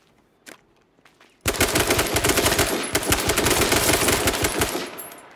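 Gunfire in the video game H1Z1: after a couple of faint isolated taps, a loud sustained burst of rapid automatic shots lasts about four seconds, close and dense.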